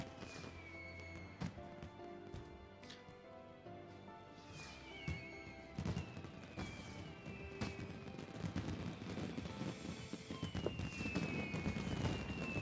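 Fireworks in Final Fantasy XIV sound as a series of sharp pops and crackling bursts scattered through the scene. Whistling rising tones, quiet music and other game sounds run underneath.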